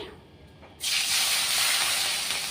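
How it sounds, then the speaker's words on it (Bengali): Shell-on prawns hit hot oil in a pan for lao chingri, bursting into a loud, steady sizzle that starts abruptly after a brief quiet moment and holds strong to the end. "তেলটা গরম করে নিচ্ছি, এবার আমি চিংড়ি মাছটা ভেজে নিচ্ছি।"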